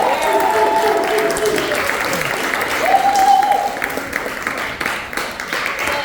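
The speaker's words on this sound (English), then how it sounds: "Can we give one more round of applause to every courageous voice" An audience at the annual Courageous Young Voices event in Gainesville applauds in a sustained, dense wash of clapping with a few whoops, while voices call out over it.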